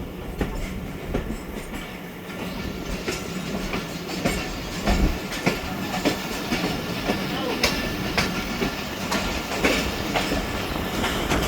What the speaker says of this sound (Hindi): मक्खड रोड से ट्रेन रवाना हो गई है।